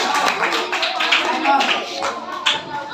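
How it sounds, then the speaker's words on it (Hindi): Applause welcomes a contestant named Madhu to the hot seat at a children's school quiz show, steady clapping that rises and falls with an announcer's voice over it. "मधु का जोरदार तालियों से स्वागत"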